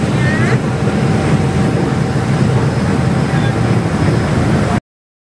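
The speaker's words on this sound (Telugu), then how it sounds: "పడవ లాంగ్ ఐలాండ్ దగ్గరికి వచ్చేసింది" A boat cruises across open sea in the Andaman Islands toward Long Island, its engine giving a loud, steady drone with broad wind and water rush; a brief squeal near the start, then it cuts off abruptly at the end.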